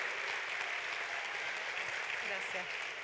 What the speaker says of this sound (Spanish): Quiero que le demos un tremendo aplauso a Paulina Aldunce de la Universidad de Chile